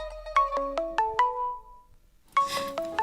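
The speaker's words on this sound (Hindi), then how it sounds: "ओह, वो मेरे भाई का कप्पू का फोन है" A mobile phone rings with a brother's call: a bright, stepping ringtone melody plays one phrase, pauses briefly, then starts again, loud and close with no talk over it.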